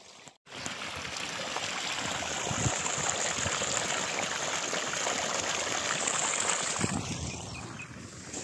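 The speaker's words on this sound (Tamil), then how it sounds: "தண்ணி எடுத்து விடுறதுனால நல்லா பாயுது" Water pours steadily from the 3-inch outlet of an 1100 W BLDC solar pump into a groundnut field, a continuous close rushing gush that lasts throughout after a brief quieter start.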